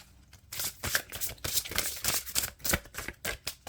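Rapid crisp riffling of a card deck, a series of quick papery bursts in several rounds, close and fairly quiet with no talking.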